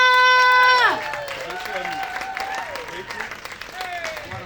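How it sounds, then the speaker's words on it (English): Comedy show audience at an outdoor pier stage clapping and cheering for the headliner, whoops and sliding shouts rising over the crowd's applause, with a voice calling out near the start. "let's keep that clap going"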